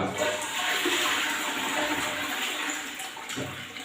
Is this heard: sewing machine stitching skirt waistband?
no